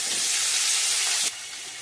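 Onions and tomatoes hit hot oil with cinnamon and cloves for a mutton gravy, a loud broad sizzle hissing close by that drops abruptly to a softer, steady fry partway through.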